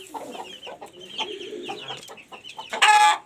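Chickens clucking and a rooster calling close by in a backyard flock, with irregular bursts of clucks and a louder, harsher call near the end.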